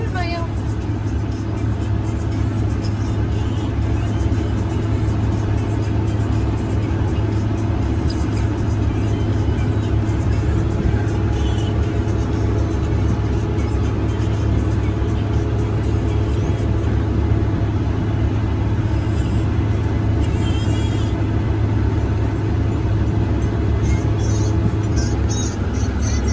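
A farm vehicle engine drones steadily during a wheat harvest, a loud continuous rumble heard from inside or right beside the machine, with people talking briefly over it.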